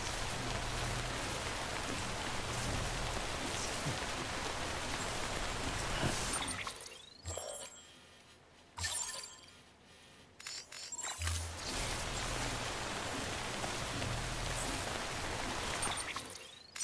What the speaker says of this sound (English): don't think this rain's gonna stop